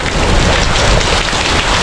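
Heavy rain pours down with gusting wind during a storm at a house in Laos, a loud, continuous broadband roar filling the whole stretch with no voices.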